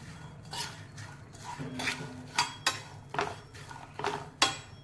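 Salted peanuts roasting in a pan over low gas, with repeated metallic scraping and clinking as the nuts are stirred and tossed, close and moderately loud, no talking.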